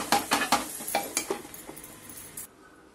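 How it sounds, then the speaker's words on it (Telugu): Metal cookware clatters as a lid is set on a pan of sword bean curry over low gas, a quick run of close clinks and knocks that fades into quiet. "ఒక చిన్న గ్యాస్ మీద ఒక రెండు నిమిషాలు మూత పెట్టి ఉంచుతాను"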